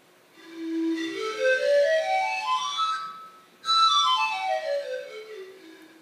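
A bamboo flute with many finger holes is blown in two long gliding phrases. The first climbs steadily from low to high, and after a brief pause the second starts high and slides back down. The tone is clear and breathy, close and alone.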